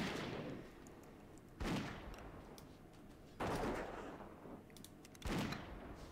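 A dwarf hunter's gun fires at a ranged scout in Classic World of Warcraft, four booming shots spaced about every two seconds over a steady low game background.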